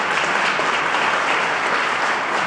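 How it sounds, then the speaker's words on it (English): Audience at an early voting rally and march to the polls applauds steadily, a dense, even wash of clapping from many hands close by, without voices. "Can we get a round of applause for that?"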